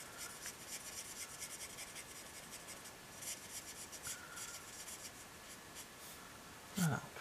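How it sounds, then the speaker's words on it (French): Blending marker rubbed across a birthday card while coloring around printed game controllers, a soft steady scratchy rasp of felt tip on paper, close and quiet, with a brief louder swipe near the end. "On va colorier autour des manettes."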